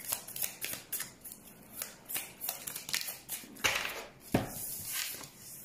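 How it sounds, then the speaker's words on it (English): Tarot cards are shuffled close by in repeated rustling, riffling bursts, with a couple of sharper slaps as cards drop onto a table. "I'm taking the cards that fall on the table specifically."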